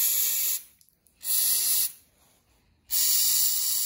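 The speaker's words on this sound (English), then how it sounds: "we'll just give it some burst, get any dirt off of that" Two loud, sharp hissing bursts of aerosol cleaner spray a Toyota Camry mass airflow sensor to clear away dirt, each lasting under a second with a short silent pause between them.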